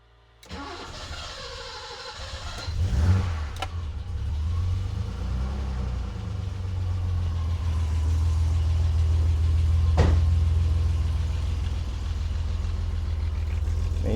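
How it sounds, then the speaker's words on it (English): A BMW E23 735i engine cranks and catches, then settles into a steady, close idle for more than ten seconds, with no talk over it. "Let's start the engine."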